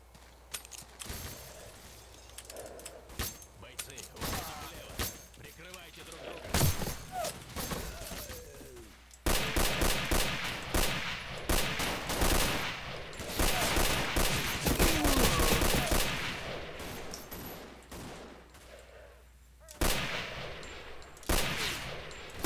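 Gunfire in the game Misery, set in fog, comes as repeated bursts and single cracks, some near and loud, others farther off, dense in the middle stretch and continuing through the clip, with a voice talking now and then.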